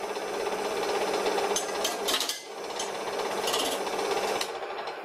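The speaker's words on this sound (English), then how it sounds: "This thing is digging in. Takes real big chunks off." A worn gouge chatters and scrapes against spinning wood on a homemade wooden lathe, a continuous rough grinding buzz with sharper bursts as the tool digs in and takes big chunks off.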